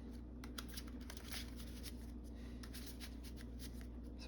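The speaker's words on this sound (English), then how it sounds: "And then shuffle the encounter deck while I think about it." A deck of encounter cards being shuffled during a Marvel Champions card game, a soft, steady riffling and flicking heard close but very quietly, with no speech.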